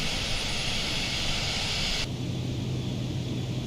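A Vision Jet's engine in the MSFS 2020 flight simulator roars steadily as power comes in, and its broadband rush shifts tone partway through. No one speaks.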